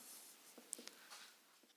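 Quiet scratching strokes of writing on a board during a physics lesson on light, with soft irregular marks and a couple of sharper taps, faint and close with no talking.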